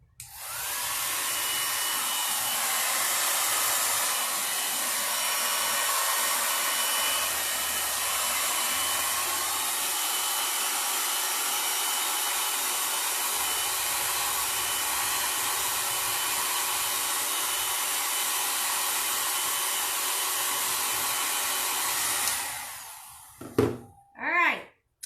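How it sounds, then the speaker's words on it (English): A handheld blow dryer blasts steadily for over twenty seconds, drying a kids' cardboard critter craft, a loud continuous whooshing roar that cuts off abruptly, followed by a couple of brief handling sounds. "I'm going to take my blow dryer and we're going to dry it again."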